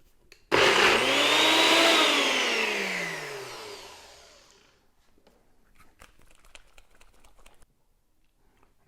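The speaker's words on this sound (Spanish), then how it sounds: "vamos a licuar primero una parte del zapallo y después acabamos de integrar el resto." A blender purees pumpkin for a vegan, sugar-free, egg-free cake, starting abruptly with a loud, steady whir that slowly winds down over about four seconds, followed by faint clinks and rustles.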